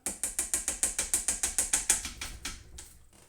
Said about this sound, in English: We are going to pop the lid, take out our auger.